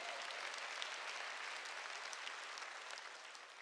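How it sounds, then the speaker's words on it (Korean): A church congregation applauds together in a steady, dense wash of clapping that holds evenly throughout, fairly soft and without any voices. "박수 치라 이게야."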